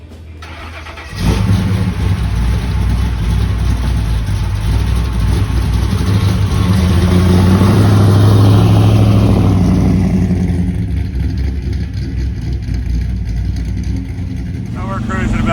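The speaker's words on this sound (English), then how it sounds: "Now we're cruising about 55 miles an hour." A 1941 Willys Gasser hot rod cruises at about 55 mph, its engine a loud, steady low drone with road and wind roar that eases slightly near the end, as a voice talks over it.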